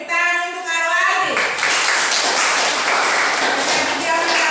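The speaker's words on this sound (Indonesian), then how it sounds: "tepuk tangan untuk Arwadi" A room full of people breaks into dense, steady clapping for Arwadi during a class session, following a brief voice at the start; the applause stays loud and close for several seconds.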